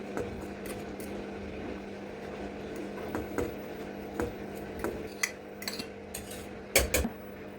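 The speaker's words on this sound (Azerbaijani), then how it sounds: "Burada hardasa 2 ədəd kartofu çəngəllə əzərək tezdən qazana əlavə edəcəm" A fork clinks against a pot as two potatoes are mashed for borscht, with scattered metallic taps and scrapes that grow sharper toward the end over a low steady kitchen hum.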